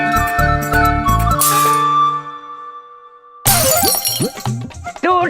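Glass window of a house shatters after a cricket ball hits it, a loud burst of breaking glass followed by tinkling shards that ring out and fade, then voices and chatter break in.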